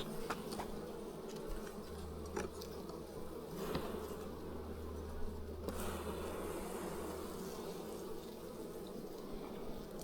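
Honey bees buzz steadily around an open, reasonably sized hive that is wintering down in remote New Zealand bush, a dense continuous drone with a low hum and no voices.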